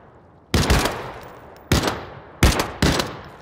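Four loud, sharp gunshots ring out in Arena Breakout Infinite, each crack followed by a decaying echo tail, spaced unevenly with the last two close together.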